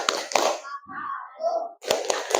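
Classroom 'tepuk diam' clapping chant: two sharp hand claps open the clip, then a voice and soft tones, and another burst of claps near the end.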